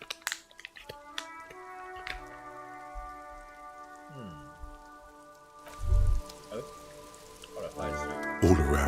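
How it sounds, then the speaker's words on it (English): Rain falling over the city of Revachol in the video game Disco Elysium, soft patter and drips with scattered taps under layered ambient tones, swelling louder toward the end. "All around you, rain falls on the great city of Revachol"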